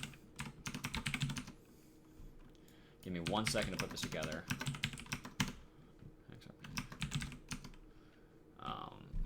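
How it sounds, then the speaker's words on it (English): Keys clack in rapid bursts on a clicky computer keyboard, close and crisp, with pauses between flurries while someone talks over parts of the typing. "Excuse my clicky keyboard."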